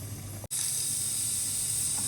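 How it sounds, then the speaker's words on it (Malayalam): Shallots and tomatoes sautéing in a pan for sardine curry, making a loud, steady, close hiss that cuts out for an instant before continuing evenly. "മത്തിക്കറി വെക്കാൻ വേണ്ടിയിട്ട് ചെറിയുള്ളിയും തക്കാളിയും ഒക്കെ കൂടി വഴറ്റിക്കൊണ്ടിരിക്കുകയാണ് ഇപ്പോൾ"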